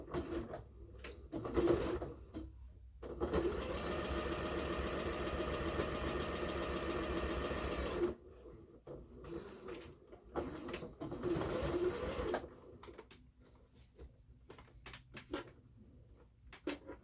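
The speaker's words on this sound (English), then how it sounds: "we're going to finish sewing." A sewing machine stitches a quilt top, running in long steady bursts of rapid mechanical whirring with short pauses between runs, close and moderately loud, no talk.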